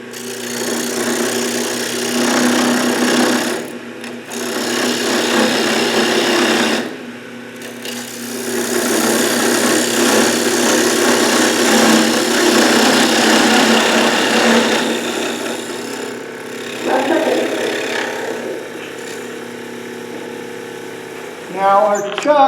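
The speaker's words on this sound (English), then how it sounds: "I can see if my parting tool on side grain will allow me to go in." A parting tool scrapes and rasps against side grain of spinning wood on a lathe while cutting a tenon, long continuous bursts broken by brief gaps, with someone talking intermittently over the work.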